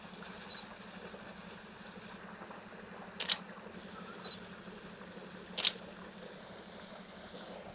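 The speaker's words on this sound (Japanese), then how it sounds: "シャッタースピードをこう変えて何枚か、撮ってみたいと思います" Two crisp camera shutter clicks, spaced a couple of seconds apart, as photos of moving water are taken at different shutter speeds; each click is brief and distinct over a steady low hum and quiet background.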